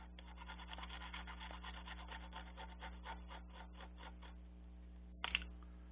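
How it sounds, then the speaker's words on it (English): A small toothbrush scrubs a Sega Genesis circuit board with isopropyl alcohol in quick, rhythmic rubbing strokes, close and soft over a steady electrical hum, ending with a brief clack. "little toothbrush action here."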